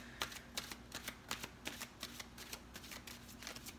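Tarot cards riffled and shuffled by hand in a steady run of crisp, rapid flutters, close and clear with no talking.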